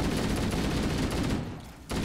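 Rapid, dense gunfire in Halo: Combat Evolved on PC during co-op play, shooting at grunts. The bursts are loud and continuous, dip briefly near the end, then resume.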